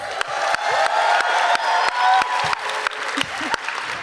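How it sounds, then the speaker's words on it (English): Audience applause with cheers and whoops fills a concert hall at the opening of an annual youth poetry slam, loud and steady for about four seconds, with sharp claps and shouted voices. "Yes, you can clap."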